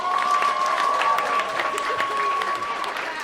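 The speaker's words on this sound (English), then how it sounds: "Let's give them another big round of applause." Audience on a studio backlot tour gives a round of applause, steady crowd clapping and cheering with a faint sustained tone beneath, some voices mixed in.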